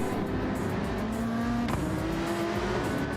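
Two APR Motorsports McLaren race cars at Spa-Francorchamps in a sim racing game: a continuous loud engine drone with shifting pitch and a brief sharp whoosh midway, no talking.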